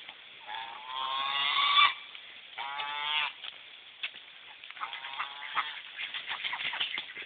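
Geese honking loudly nearby in several drawn-out bursts, followed by scattered quieter honks and calls from the flock.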